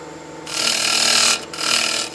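A spindle gouge cuts into a wooden bowl spinning on a lathe, producing a loud, rushing scrape that runs for about a second, breaks off briefly, then resumes.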